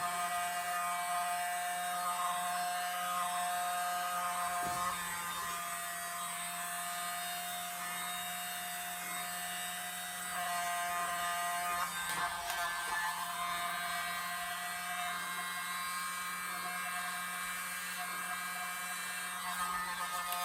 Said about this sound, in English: The hairdryer really blows it good.